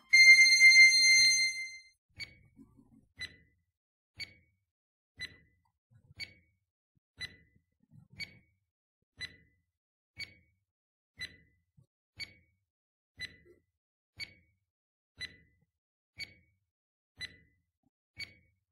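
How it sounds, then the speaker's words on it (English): A 20-second countdown timer sound effect begins with a bright chiming burst, then gives evenly spaced short ticking beeps about once per second, clear and alone. "You have 20 seconds and timer starts now."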